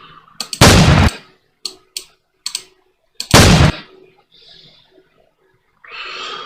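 Gunshot effect for an animation edit, heard as two loud, sharp blasts a few seconds apart, with faint clicks and ticks in between and a soft hiss near the end. No one speaks.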